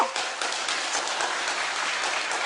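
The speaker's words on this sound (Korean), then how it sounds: "이럴 땐 박수 쳐!" Church congregation clapping during a Thanksgiving service sermon, a full and steady wash of applause from many hands at a constant level.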